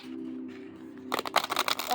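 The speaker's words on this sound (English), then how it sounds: "riffle shuffle." Tarot cards from a thick deck are riffle shuffled in a quick, fluttering burst of crisp clicks that follows a moment of quiet speech.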